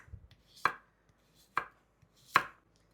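Knife slicing zucchini into rounds on a cutting board, three crisp, separate cuts spaced about a second apart, close and clear with no talking.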